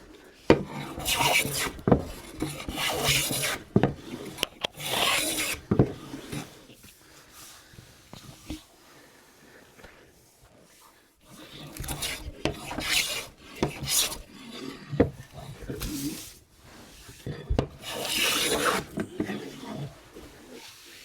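A hand plane takes full shavings off wooden workbench stock, with long rasping strokes repeated in steady bursts and short pauses between passes, close and fairly loud.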